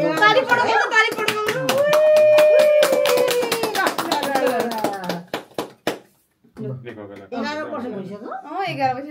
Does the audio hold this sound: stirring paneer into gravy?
no